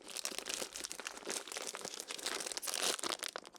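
A hard-to-open crinkly plastic biscuit packet is pulled and torn close up, giving dense crackling and rustling in irregular bursts, with no talk.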